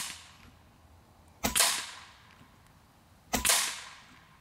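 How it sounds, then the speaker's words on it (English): Two sharp, loud cracks from a Taipan Veteran 2 Tactical airgun firing 60-grain slugs, each a sudden close report with a short ringing tail, spaced about two seconds apart against quiet background. "I'm going to shoot one without trying and see how we do."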